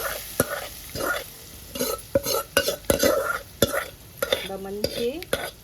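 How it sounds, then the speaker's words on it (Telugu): Talimpu, an Indian tempering, crackles in hot oil while a spoon stirs it briskly around the pan, making rapid scrapes and clinks over a steady sizzle, and a short squeaky tone rises near the end. "చూడండి, తాలింపు బాగా ఫ్రై అయింది."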